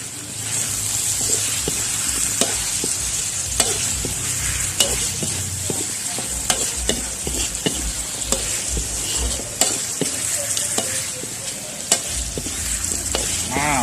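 Rat meat stir-fried with holy basil in a pan, sizzling and crackling steadily with scattered sharp pops and clicks of a spatula, close and continuous with no talk.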